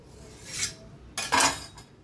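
A knife cuts through stuffed bread patties on a board in two short scraping strokes, the second louder and longer, close and clear with no talking.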